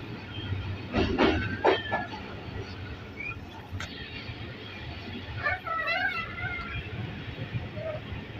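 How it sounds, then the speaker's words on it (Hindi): Passenger train on rails through a Pakistani station, rumbling and rattling steadily with some clanking bursts near the start and a faint squeal later, heard from on board. "रेलगाड़ी ने दोबारा से स्पीड लेनी शुरू कर दी है।"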